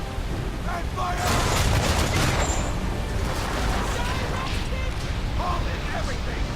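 Ship cannons fire in a naval battle in Assassin's Creed III, a dense, continuous roar of booms and rumbling blasts under loud game music and shouting crew voices.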